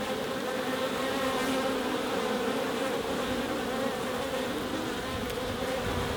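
Honeybees swarm around an open hive during a brood inspection, a dense, steady buzzing drone of many insects close by, continuous and even in loudness with no talking.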